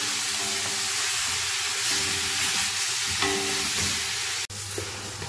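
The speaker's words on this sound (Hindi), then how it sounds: "गोश्त को जो है जिंजर गार्लिक पेस्ट के साथ में अब भूनना है।" Meat browning with ginger garlic paste in a hot pan gives a loud, steady sizzle with a constant hiss, broken briefly by one sharp clatter near the end.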